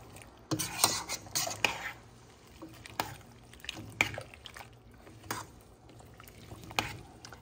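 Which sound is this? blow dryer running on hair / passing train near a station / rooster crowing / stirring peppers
stirring peppers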